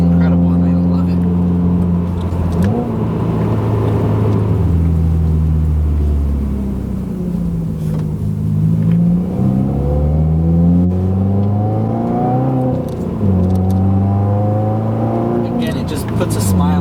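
A 2016 Subaru WRX engine pulls hard under acceleration, its loud, steady drone rising and falling through several rev sweeps across the whole stretch.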